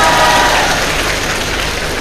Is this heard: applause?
yes